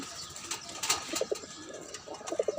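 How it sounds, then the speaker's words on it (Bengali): A pair of white domestic pigeons coo softly and close by in a few short, low, throaty phrases, with faint rustling between calls. "এখানে আছে সাদা কবুতর এক জোড়া"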